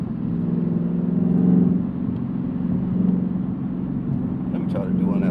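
A Camaro cruises at around 3,000 rpm with a steady low engine and exhaust drone that swells slightly after a second and a half. Quiet talk sits faintly in the background.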